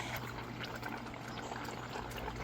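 Steady trickling and pouring of water draining from a hydroponic reservoir, a continuous wet stream running throughout at moderate level with no voices.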